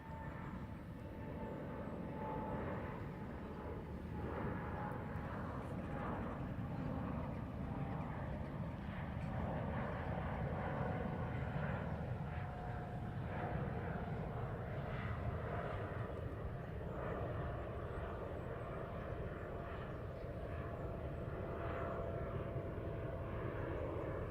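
An Etihad airliner departs from Heathrow runway 09R, a distant, fairly faint jet rumble holding steady throughout with a thin whine above it, with no voices.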